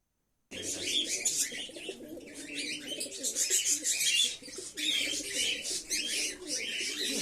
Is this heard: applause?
no